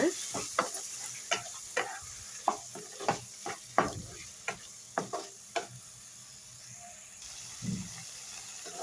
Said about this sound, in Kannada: ಇವಾಗ ನೋಡಿ ರುಬ್ಕೊಂಡಿರೋಂಥ ಮಸಾಲ ಹಾಕ್ತಾ ಇದ್ದೀನಿ ಚೆನ್ನಾಗಿ ಮಿಕ್ಸ್ ಮಾಡೋಣ